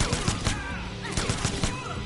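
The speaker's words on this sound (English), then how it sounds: "I didn't realize at her spamming with machine gun" Rapid machine-gun spam fire in a fighting video game, loud bursts of shots repeating at a quick uneven rhythm over busy game sound across the whole stretch.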